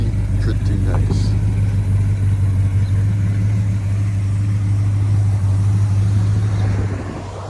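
A Dodge truck engine idles close by with a loud, steady low rumble that holds evenly for several seconds before easing off slightly near the end.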